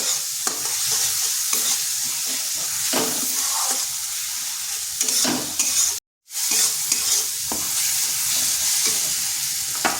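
A spice paste made with Kashmiri chili powder sizzles in a pan and is stirred in repeated scraping strokes, close and fairly quiet, with one brief silent gap.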